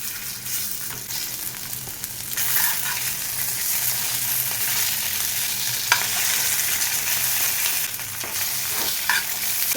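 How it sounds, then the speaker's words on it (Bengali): Chicken pieces fry in butter in a hot pan, giving a steady bright sizzle throughout with occasional stirring clinks and crackles, close and clear with no talk. "এগুলো থার্টি সেকেন্ডসের মতো ভাজবো দিয়ে তুলে নেবো"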